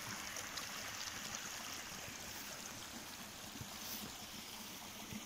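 Small waterfall feeding a pond on an estate, a steady soft rush and trickle of falling water, faint and continuous throughout with no voices.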